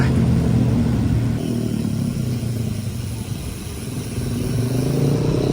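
A motorcycle ridden by a woman rumbles past close by on a road, its loud engine roar dipping in the middle and swelling again toward the end, with no voices.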